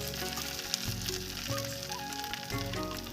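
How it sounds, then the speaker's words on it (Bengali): Ground lentil paste for dal puri fries in a pan, a steady close sizzle and crackle over a faint background hum, with no talking. "ভালো করে শুকনো শুকনো করে আমি ভেজে নেব।"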